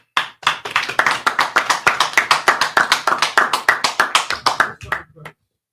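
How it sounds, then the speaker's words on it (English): Group of men at a brotherhood class clapping hands together in a fast, steady unison rhythm, loud and close, stopping abruptly after about five seconds. "Clap it up."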